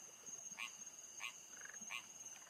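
A frog croaks in the puzzle game Rusty Lake: Paradise, three evenly spaced short croaks about half a second apart, faint and clear over a low, soft background.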